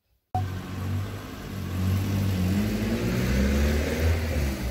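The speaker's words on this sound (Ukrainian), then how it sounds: "Машина поїхала?" A car engine rumbles steadily close by, with low revving that rises as it pulls away on an outdoor morning, no voices over it.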